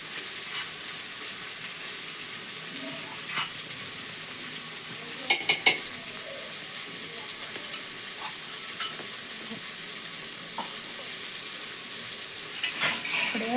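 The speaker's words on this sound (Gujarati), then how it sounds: "હવે જો આપણે લસણ વાળી ચટણી પણ નાખી દઈશું." Garlic chutney sizzles as it is stirred into undhiyu, a soft steady frying hiss with a spoon or ladle knocking against the pot now and then, including a quick cluster of clinks partway through.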